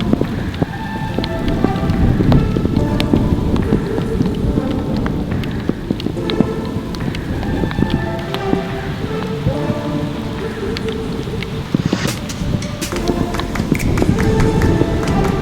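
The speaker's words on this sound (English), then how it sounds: "Oh, this rain's come in a fraction early." Rain pours down on an outdoor golf course, a dense, continuous patter with scattered sharp drop ticks, close and fairly loud, with no voices.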